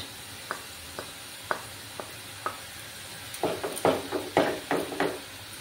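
Cumin, coriander and red chili powder fry in a pan for a garlic methi egg kosha. Soft scraping stirs tap at an even pace, then the sizzle swells into louder, busier bursts of stirring and frying near the end.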